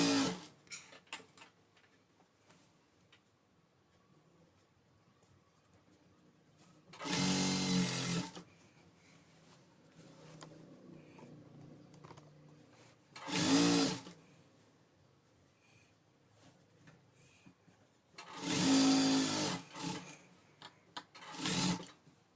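Sewing machine stitching the side seams of a small child's gown in three loud bursts with a shorter fourth at the end, separated by quiet stretches of faint handling clicks.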